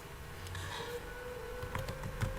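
Quiet tapping of a password on a computer keyboard, a few soft keystrokes near the end over steady background noise, with no talking.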